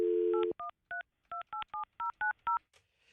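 A dial tone cuts off and a phone number is keyed in as about eleven crisp, evenly paced touch-tone beeps, loud and close with no talking.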